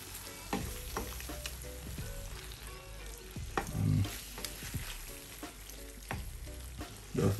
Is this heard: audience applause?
no